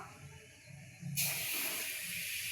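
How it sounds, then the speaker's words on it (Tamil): Semolina roasting in the same pan used for cashews, a quiet low stir and scrape that suddenly gives way to a loud, steady hiss and sizzle. "அதையும் நம்ம நல்லா வறுத்து எடுத்துக்கலாம்."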